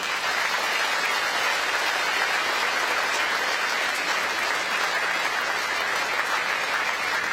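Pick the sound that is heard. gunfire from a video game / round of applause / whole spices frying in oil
round of applause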